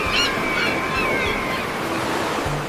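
Sea waves wash up onto a sandy shore in a continuous hiss and roll. The surf is fairly loud and near, with a breezy wind blowing through it and no talking.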